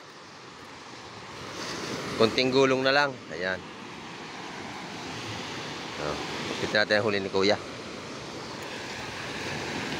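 Gentle surf washes steadily on a calm sea at a Philippine shore where a fishing boat from Salinas comes in from open water. Two stretches of talk sit over the soft, continuous wash.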